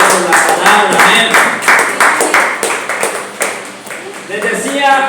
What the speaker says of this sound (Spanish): Denle un aplauso a él por la palabra.